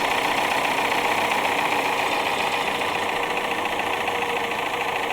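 A 1948 Jeep CJ-2A engine with a fault runs steadily close by, a dense, even mechanical clatter and hum that holds at a constant level throughout with no talk over it.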